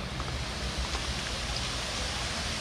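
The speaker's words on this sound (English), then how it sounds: "Oh well, it's raining on us right now." Rain falls steadily outdoors in Chiang Rai, Thailand, a soft continuous hiss of drops with no talk.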